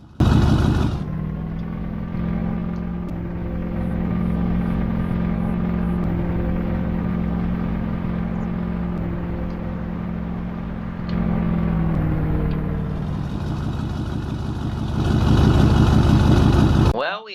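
A Steelbody truck engine idles in Farming Simulator 25, a loud, steady low rumble with harmonic drone, briefly revving up near the start and again toward the end.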